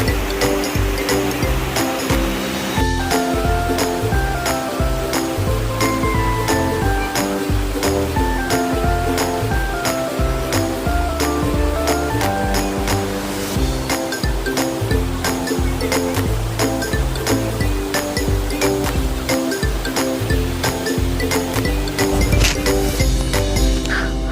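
Phlio waterfall in Chanthaburi drops from a 20-metre cliff into a large pool with a steady, unbroken roar of rushing, splashing water throughout.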